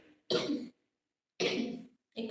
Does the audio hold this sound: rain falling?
no